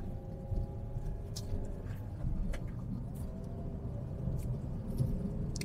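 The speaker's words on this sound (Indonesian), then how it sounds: "Kalian dengerin suara bannya." Steady low tire rumble and road roar from a car on medium asphalt at 60 km/h through a housing area, heard from inside the cabin as a constant, moderately quiet drone.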